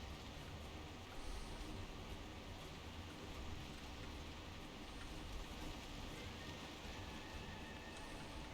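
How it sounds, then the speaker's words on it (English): Heavy rain falls in the World of Warcraft video game, a steady, dense hiss of downpour that holds at an even level throughout, soft and continuous with no voices. "Oh wow, that's some heavy rain, man."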